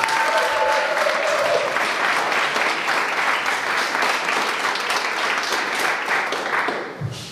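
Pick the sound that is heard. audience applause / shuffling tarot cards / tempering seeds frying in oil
audience applause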